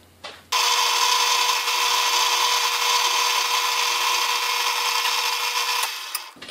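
A power tool cuts off a piece of zinc stock for a ring mold, a loud continuous high whine that starts abruptly, holds steady for about five seconds, then stops, close up with no talking.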